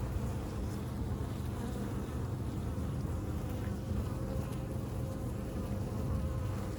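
Honey bees buzz steadily around three hives standing side by side in a spring apiary, a dense, continuous drone close by with no voices.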